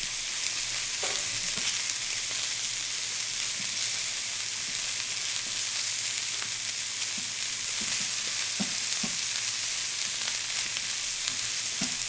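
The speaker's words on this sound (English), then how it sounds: "You gotta kind of mix up the rice because the sage and garlic will get pooled up in one area." Rice with sage and garlic fries in a pan with a continuous hiss of sizzling, while a rice paddle stirs and scrapes at intervals with soft taps and knocks.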